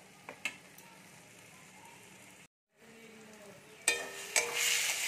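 Masala frying for a cashew chicken curry in a pan, a low sizzle with scattered spoon scrapes and clinks. A brief silence falls midway, then a louder burst of stirring and sizzling returns near the end.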